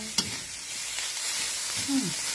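Fish roe mixed with fish meat being dry-roasted in a pan, with a gentle sizzle and scraping stir sounds, a sharp clack near the start and a brief squeak near the end, close and moderately quiet.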